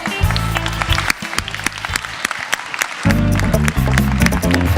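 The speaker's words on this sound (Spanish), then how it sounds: "Un aplauso, por favor." Audience applause at a Christmas karaoke event, lively clapping mixed with loud background music and sharp hits, fairly close and strong throughout.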